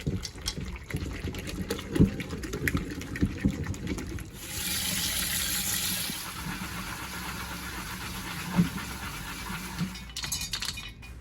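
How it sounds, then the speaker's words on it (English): Liquid draining from persimmon pulp, a soft watery trickle with a few light clinks against a steady low background hum, close and faint, with no talk. "Just get rid of the liquid."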